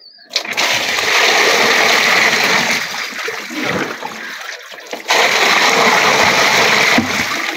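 Water from a molly fish tub pours out in a loud, rushing stream, splashing continuously with a brief dip in force midway before surging back strongly.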